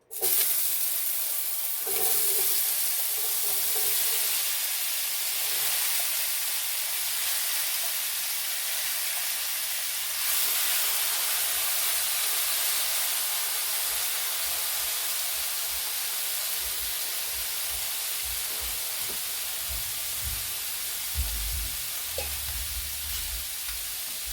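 Diced potatoes frying in a pan as a loud, even, hissing sizzle that holds steady throughout, with a few low knocks and shuffles near the end.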